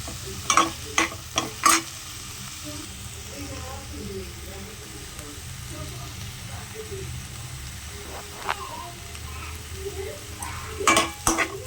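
Green masala chicken fries in a pan with a steady, quiet sizzle, broken by clattering spoon stirs at the start and again near the end, with faint voices in the background.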